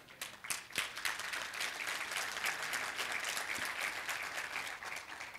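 A church congregation applauds steadily, many hands clapping in a dense, sustained wash of sound that holds for several seconds before easing slightly.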